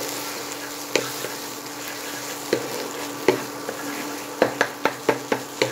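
Beaten egg seasoned with salt fries in refined oil for mixed fried rice, a steady soft sizzle under repeated sharp scrapes and knocks of a spatula stirring in the pan, growing quicker toward the end.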